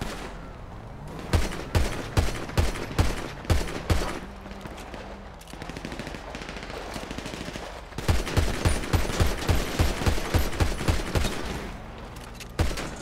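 Rapid bursts of gunfire in GTA 5 roleplay, loud and close, with repeated volleys of sharp shots separated by a short lull, then a final single shot.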